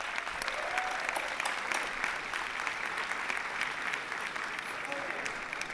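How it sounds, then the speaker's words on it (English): Sustained audience applause welcoming a speaker onto the stage at a youth conference session in Bucharest, a steady dense clapping wash from a large crowd continuing evenly throughout with no break. "Give him a great round of applause"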